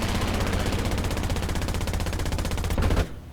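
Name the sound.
He-111 gunners firing machine guns in video game War Thunder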